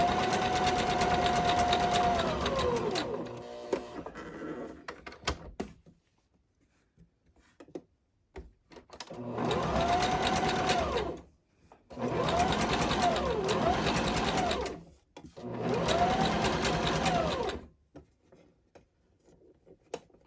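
Sewing machine topstitching the handle of a boho tote bag, close and buzzing in three or four separate runs with short silent pauses between them.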